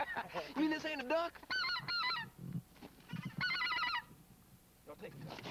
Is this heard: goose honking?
yes